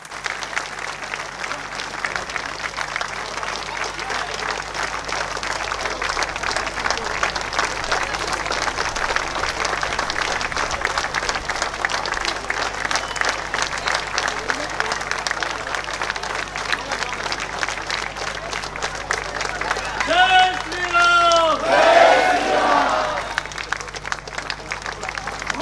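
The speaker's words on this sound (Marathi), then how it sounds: "या दोघी पती पत्नींचा सत्कार होईपर्यंत टाळ्या वाजत राहिल्या पाहिजे" A large audience at a Gudi Padwa rally claps continuously in sustained, dense applause for a couple being honoured. The clapping swells and holds steady, with a few brief voices rising near the end.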